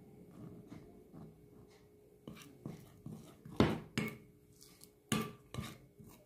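A spoon works flour into an egg dough in a bowl, making irregular scrapes and knocks against the bowl, some soft and a few sharper, louder clacks, with no talking.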